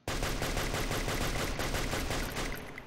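Rapid, sustained bursts of Free Fire video game gunfire crackle continuously for nearly three seconds, loud and dense, fading slightly at the end.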